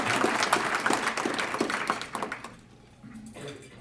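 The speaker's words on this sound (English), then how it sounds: "Let's give them another round of applause." A community event audience applauds police officers with a burst of many hands clapping that fills the room for a couple of seconds, then thins out and fades into quiet.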